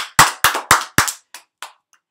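Several sharp hand claps in a quick, steady rhythm, four loud ones followed by a few fainter, trailing claps, close and clear with no talking.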